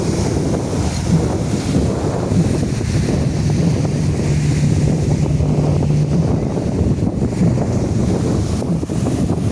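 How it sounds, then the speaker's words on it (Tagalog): Strong ocean waves breaking on the beach at San Felipe, Zambales, a constant loud roar of surf with heavy wind buffeting the microphone throughout, no talking. "Ngayon malalakas ang alon"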